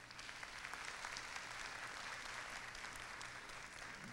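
Faint, distant applause from a staff audience at a morning team meeting, an even wash of many hands clapping that holds steady for about four seconds.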